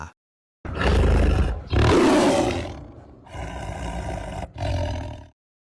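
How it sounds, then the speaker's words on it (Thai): A large wild cat roars deep and loud in a forest at night, several long echoing roars separated by brief pauses, with no talk. "ราวตีสองเสียงคำรามดังก้องไปทั่วทั้งป่า"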